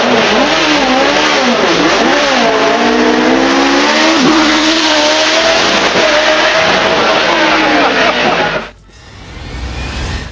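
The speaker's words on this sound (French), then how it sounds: "ce monstre de piste utilise un moteur V8 issu de la technologie de Formule 1, produisant un son à 118 décibels" A BMW M3 race car with a Formula 1–derived V8 revs hard and close, a loud sustained roar whose pitch repeatedly rises and falls before cutting off abruptly near the end.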